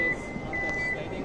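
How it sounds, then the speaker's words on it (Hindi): Powered rear tailgate of a Toyota Vellfire luxury MPV closing, with a steady electronic warning beep repeating through the short clip over low mechanical hum, heard close and alone. "ये जो पीछे का डोर है ये पावर्ड है"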